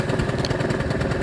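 A Vespa Zip scooter engine runs steadily nearby, a rapid, even putter with a mid-pitched buzz and no speech over it.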